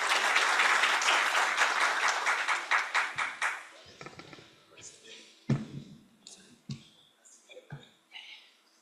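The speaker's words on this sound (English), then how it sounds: "loud applause." Audience applause at a global symposium session, a dense burst of clapping that fades over several seconds into scattered single claps.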